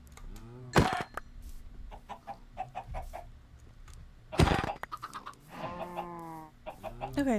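Chickens in Minecraft, a few sharp clucks and squawks in quick bursts with a louder pair of hits, close and clear with little else around.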